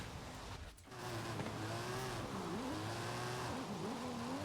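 An Aston Martin DBS loses grip and spins on a wet road in Forza Horizon 5. The engine note rises and falls steadily under power, with a brief dip as the car slides wide, and the sound stays close and continuous.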